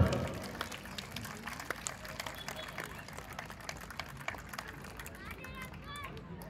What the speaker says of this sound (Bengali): আরেকবার জোরে হাততালি।